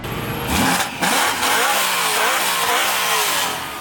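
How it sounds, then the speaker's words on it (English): A raspy V8 car revs hard as it pulls away from a cars-and-coffee meet, its loud, snarling engine note rising and falling in bursts, close by, with crowd noise behind and no talk. "That's one raspy sounding V8."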